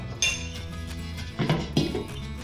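Milky liquid is scraped and poured into a metal pot in a home kitchen, with faint clinks and knocks of metal against metal at a low level.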